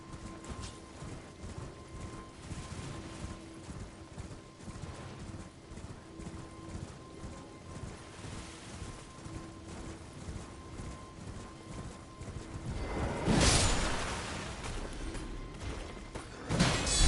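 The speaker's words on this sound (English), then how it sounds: "There's a big black horse" Black horse galloping in the video game Elden Ring, with steady hoof clip-clops throughout, a faint whinny, and a louder thudding rush near the end, heard alone without talk.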